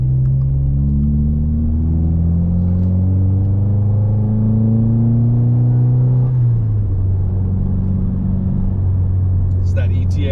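A 2022 Subaru WRX fitted with an ETS intake gives a loud, close engine drone. The note climbs steadily under acceleration, drops sharply at a shift, then holds a deep, even rumble.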